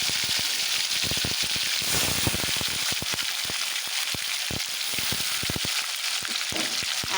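Chopped tomato and ginger paste fry in hot oil with spices, a loud continuous sizzle with crackling pops, close up and with no voices.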